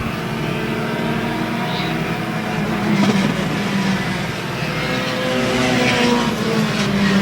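Race cars at a racing event circle the track in a steady, loud engine roar that swells and fades slightly as they pass, with no talk heard.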